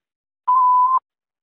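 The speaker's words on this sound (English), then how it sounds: "Please leave a message after the beep." A single voicemail beep, a clean steady electronic tone lasting about half a second, alone and surrounded by silence.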